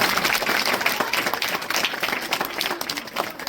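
Loud enthusiastic clapping from a gathered group welcoming a teacher at a school farewell ceremony, dense and sustained throughout, close by and steady, with no distinct voices.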